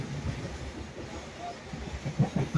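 Inside a moving train, a low, steady rumble and rattle of the carriage runs underneath while people nearby talk.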